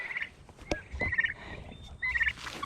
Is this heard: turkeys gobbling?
yes